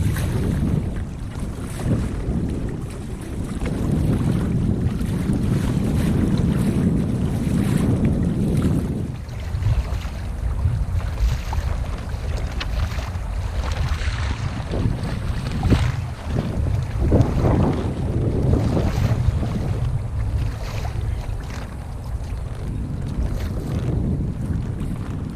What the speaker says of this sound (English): So wind's died down a little bit again.